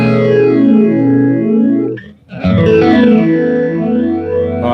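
Guitar chords run through a Strymon Mobius modulation pedal, sweeping in slow flanger-style arcs, cut off by a brief gap before the wobbling, swirling tone returns, loud with no voices.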